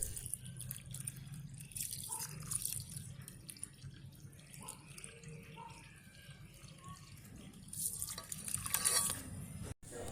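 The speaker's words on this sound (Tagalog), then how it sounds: "hugasan na natin yung bigas ng maigi" Rice being washed in a basin of water, with faint sloshing, dripping and small splashes spread irregularly over quiet background, growing a little louder near the end.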